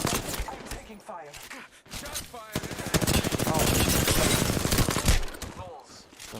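Rapid automatic gunfire in the shooter game Apex Legends rattles in fast repeated bursts, loudest midway. A voice talks over parts of it.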